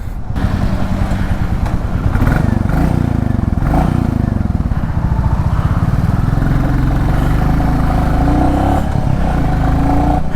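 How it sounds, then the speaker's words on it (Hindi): Royal Enfield Classic 350 motorcycle ridden in Indian traffic, its single-cylinder engine giving a loud, close, steady thumping beat as the throttle is opened, continuous for the whole stretch. "you just give the throttle and this bike is ready to fly"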